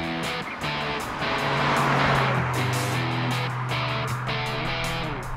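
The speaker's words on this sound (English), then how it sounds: "We're driving this super rare Dick Johnson Grand Prix Turbo, this XE Falcon" A rare Dick Johnson Grand Prix Turbo XE Falcon with a turbocharged six-cylinder engine drives along, its steady engine drone and rising, shifting whine heard from inside, loud and continuous.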